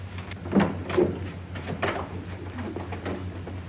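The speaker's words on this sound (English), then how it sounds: "Open that closet door." A closet door opening in an old-time radio drama, several soft wooden knocks and scrapes over a low steady hum, fairly close and alone without talk.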